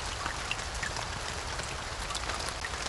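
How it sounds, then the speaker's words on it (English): Rain falls in the Blinky Bill's Play & Learn preschool game, a steady soft hiss with scattered light patter that runs evenly throughout. "Oh goody, it's raining."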